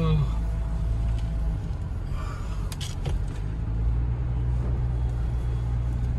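A Maruti Ertiga car labours up a looping mountain road near Neelkanth peak in Sariska, its engine a steady low rumble heard from inside the cabin with some faint background noise and no clear talk.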